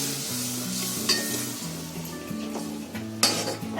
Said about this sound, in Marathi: आता आपले मसाले फ्राय होतात आहे